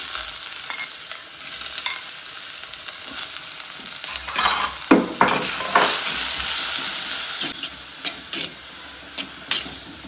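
Tomato, onion, garlic, ginger and green chili sautéing in oil in a pan, a continuous close sizzle with bursts of stirring and scraping in the middle, no talking.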